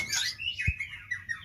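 A Rejegayu songbird, a former field-caught bird, sings a bright, shifting warble of high chirps and trills, with a brief low thump partway through, against faint background noise.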